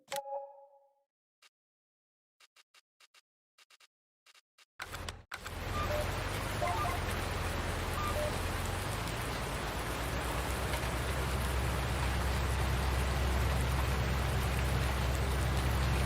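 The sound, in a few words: rain in video game Farming Simulator 19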